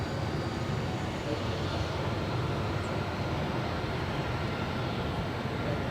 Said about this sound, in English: this is Southwest 1186 off to Las Vegas